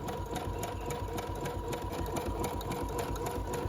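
A Brother sewing machine runs steadily through double needle embroidery, its fast, even mechanical whir continuing unbroken and fairly loud from start to finish, with no talking.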